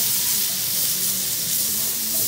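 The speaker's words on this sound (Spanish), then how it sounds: "Empezaremos con lo más importante, que es el sofrito, la cebolla." Onion for a paella sofrito fries in a hot pan as a dense, loud, even sizzling hiss that holds steady from start to finish with no talking.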